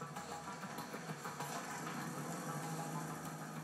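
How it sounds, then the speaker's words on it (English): A new Suzuki Gixxer engine on the final assembly line in Hamamatsu, Japan, spun by an electric motor for a compression test, makes a steady, close, even whirring drone with no break. "what sounds like an exhaust system is really the sound of a pressure gauge measuring the airflow inside the new engine"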